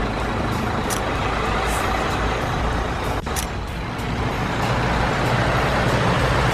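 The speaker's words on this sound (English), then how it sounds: "This is a haul truck." Haul truck, the largest dump truck type, as a sound effect in a kids' construction vehicles app: a continuous heavy engine rumble with a brief air-brake hiss in the middle.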